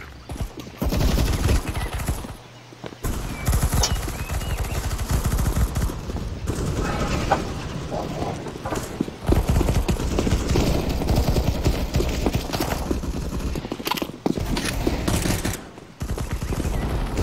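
Gunfire in the video game CS:GO, with dense bursts of shots and sniper fire, loud and nearly continuous with brief gaps, mixed with other game sounds.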